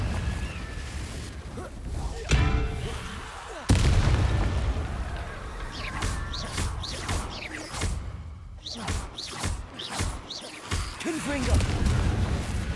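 Confringo fire-spell explosions in Hogwarts Legacy boom repeatedly in a spell-casting fight, sharp blasts and whooshes landing at irregular intervals while a voice calls out between them.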